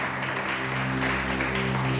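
A church congregation claps during a Spanish-language sermon, a brief steady burst of applause with a sustained tone humming underneath.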